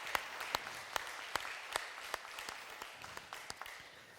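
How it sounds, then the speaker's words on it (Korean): Members of a church congregation clap for the orchestra that played hymns, a moderate wash of applause punctuated by several sharp, distinct claps, with no talking over it. "오늘도 은혜의 찬송을 연주해 주신 오케스트라 우리 박수하며 하나님께 다시 영광을 드리겠습니다."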